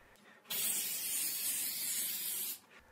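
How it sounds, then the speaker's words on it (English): Spray adhesive hisses from an aerosol can onto paper in one continuous burst of about two seconds, close and steady, starting and stopping abruptly against a quiet room. "So I'm going to use spray adhesive to hold the foil to the paper."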